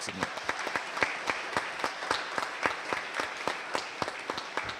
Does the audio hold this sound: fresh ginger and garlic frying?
no